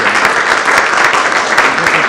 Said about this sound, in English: Another clap,